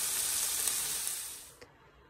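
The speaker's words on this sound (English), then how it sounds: "I'm going to start making the pork for the tacos now." Pork for tacos frying in a pan, a loud, close, even sizzle that fades and cuts off after about a second and a half, followed by quiet.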